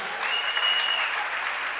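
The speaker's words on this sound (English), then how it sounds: "Give Jesus a clap of him!" Church congregation applauding for Jesus during a service, a dense steady roar of many hands clapping, sustained throughout at moderate loudness.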